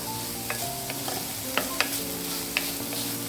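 Garlic sizzles in a little oil in a pan for a broccoli stir-fry, with steady frying hiss and a few sharp stirring clicks and scrapes close by, with no talking.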